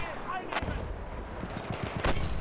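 Mortar rounds fire in the video game Battlefield 1: loud booming shots over a busy backdrop of distant gunfire and rumbling battle noise, with repeated impacts through the short stretch.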